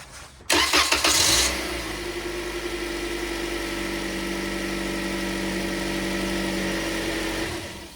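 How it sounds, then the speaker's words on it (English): A car engine cranks briefly with a sharp start, then settles into a steady, close idle hum that runs for several seconds before cutting off. "I'm going to crank the engine over right now and I'm going to shut it off"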